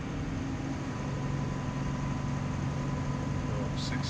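New Holland T7 tractor ploughing wet muck, its engine holding a steady high-revved drone inside the cab, even and continuous with a faint whine on top.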